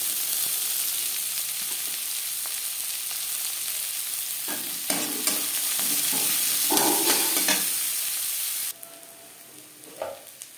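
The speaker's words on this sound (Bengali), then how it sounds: "মাছ ভেজে নেওয়া কড়াইতে আবারও তেল দিয়েছি। দিয়ে দেব পেঁয়াজ কুচি" Chopped onion frying in oil in a wok already used for frying fish, a steady hiss of sizzling with scattered clinks and scrapes of stirring, the sizzle dropping noticeably near the end.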